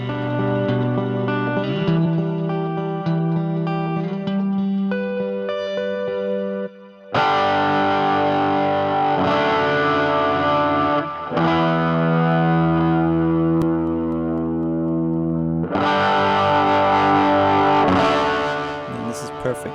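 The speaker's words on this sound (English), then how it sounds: "you can really hear that breakup and distortion." Wave Arts Tube Saturator 2 plugin distortion on guitar: loud, saturated sustained chords with gritty harmonic breakup, changing in sections with a brief dropout near the middle.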